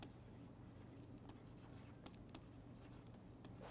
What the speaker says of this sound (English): I am going to write it over here